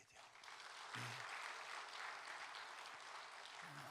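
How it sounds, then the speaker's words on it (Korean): Congregation at a Korean church report worship service applauding in thanks to God, a broad, steady wash of clapping from many hands filling the hall throughout, with a few low voices briefly audible underneath. "이런 때는 우리가 하나님 앞에 감사의 박수를 올려드려야 돼요."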